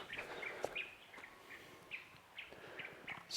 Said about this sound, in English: listen to all these beautiful bird sounds